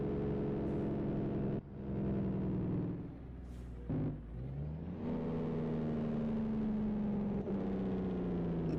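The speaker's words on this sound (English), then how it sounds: "Jake brake does sound nice on this truck though" A Kenworth T2000 truck in American Truck Simulator runs its jake brake, giving a loud, steady, throaty engine rumble that drops in pitch several times as the truck slows.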